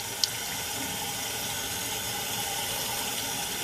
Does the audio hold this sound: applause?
no